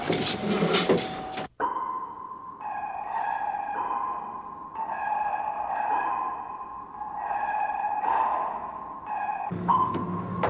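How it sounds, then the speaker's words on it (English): Sonar pings aboard a WWII US destroyer in the 1957 film The Enemy Below: a short burst of noise, then repeated ringing electronic tones that pulse and echo at a slow, regular rhythm, ending in another noisy burst. "Sonar, Captain."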